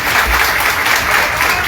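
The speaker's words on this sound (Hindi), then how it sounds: "इनके लिए जोरदार ताली बजा दीजिए।" An audience at a Bihar public event claps loudly and continuously for the arts and culture minister, a thick, sustained burst of applause close to the listener.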